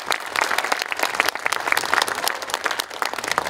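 Loud, steady applause from a large audience at a commemorative concert ceremony, with many hands clapping densely and continuously throughout.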